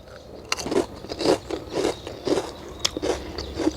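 Crispy malunggay crackers (kropek) made with ground moringa leaves are bitten and crunched close to the mic, a run of about eight sharp crackly crunches in a steady chewing rhythm with no talk.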